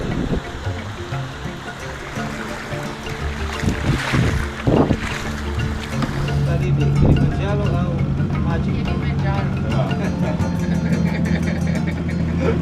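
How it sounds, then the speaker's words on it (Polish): Small dinghy motoring slowly across an anchorage at dawn, a steady outboard hum under wind buffeting the microphone, with bits of speech early on. "No i płyniemy powolutku sobie dingi"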